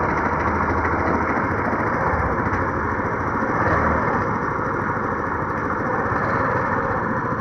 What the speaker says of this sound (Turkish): Almazsınız bakın rolantide çalışıyor.